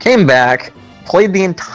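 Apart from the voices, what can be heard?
No everyday noises stand out.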